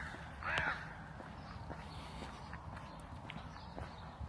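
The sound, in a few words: crow cawing on a Liverpool street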